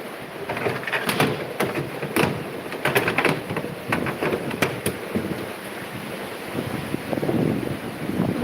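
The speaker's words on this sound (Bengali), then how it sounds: "বৃষ্টি শুধু বৃষ্টি না, শুধু দেখো দেখো ঝড় উঠেছে ঝড়" Storm wind roars and gusts in sustained, rough waves, with rain lashing steadily and several sharp bursts of noise, all heard without any talk.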